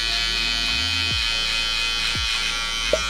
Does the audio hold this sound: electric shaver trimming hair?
yes